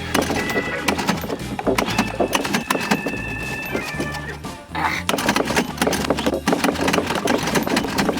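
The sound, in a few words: boat engine starting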